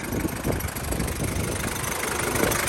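The turbocharged engine of a used 4x4 pickup truck running steadily at idle, a close, even, mid-pitched rumble with a light diesel knock throughout and no talk.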